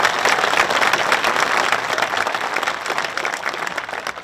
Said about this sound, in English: Can we have another round of applause for all of our speakers